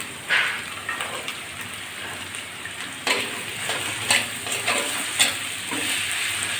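Potatoes drop into onions frying in a pan for an okra and potato bhaji, bursts of crackling sizzle with spoon stirs and clatters over a constant frying hiss.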